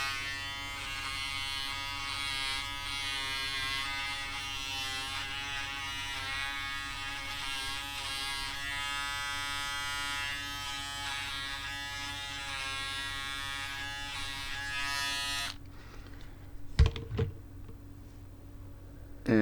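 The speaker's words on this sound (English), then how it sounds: "when I shave, the corners here near the ear are very hard to do with this Braun shaver" A Braun electric foil shaver buzzes steadily and close while shaving a head, holding an even drone for about fifteen seconds before switching off, followed by a few brief handling knocks.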